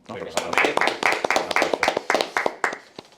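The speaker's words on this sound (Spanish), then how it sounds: "Un aplauso, ¿no?" Steady, evenly spaced hand claps at a live tech summit podcast recording, close and fairly loud, with a voice running faintly beneath them.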